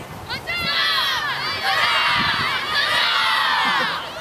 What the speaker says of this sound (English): What I do hear are cheers from the Union boys who have stopped the attack.